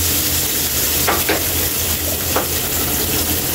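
Milkfish (bangus) dusted with flour fries in hot oil with a steady, loud sizzle and a few faint clinks of utensils.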